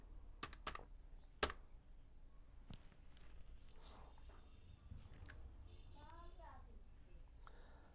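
Computer keyboard typing while setting text in a Bangla font for a social media poster in Illustrator, faint scattered key clicks with a few sharper taps, sitting under a low room hum.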